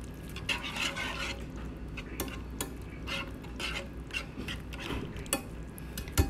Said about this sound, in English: add my mushrooms and onions. Give that a good mix.